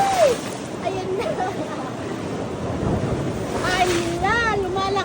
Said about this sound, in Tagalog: Yung alon parang galit.